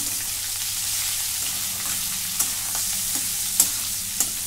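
Bitter gourd sabzi with salt sizzles softly in a pan under a steady frying hiss, with a few sharp spatula taps and scrapes as it is stirred, close up.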